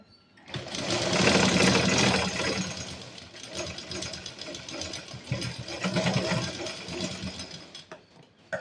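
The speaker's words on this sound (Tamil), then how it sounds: "நான் இப்போ தச்சு எடுத்துக்கிறேன்" An electric sewing machine stitches a cut skirt panel in quick bursts of rapid whirring needle rhythm, close and fairly loud, pausing briefly between runs.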